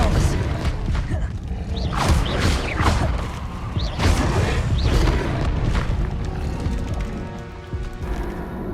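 Confringo spell explosions in the Hogwarts Legacy video game, a run of booming blasts and crashing thuds through the whole stretch, alongside other spell and combat effects.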